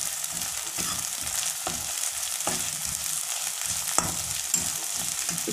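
Ginger, garlic and green chili paste fries in a pan for paneer bhurji, a soft steady sizzle punctuated by regular spatula scrapes and taps, with no talking.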